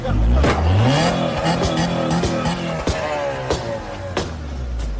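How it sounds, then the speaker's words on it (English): A car engine revs hard and loud with rising and falling pitch during a tense police stop, with brief tire noise and shouted voices under the engine. "Turn off the car!"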